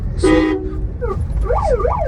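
A multi-tone ambulance-style siren horn fitted on a car in a Punjab village, sounding a short wail then rising and falling sweeps over a steady engine and road rumble, close and loud.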